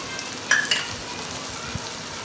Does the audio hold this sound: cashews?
yes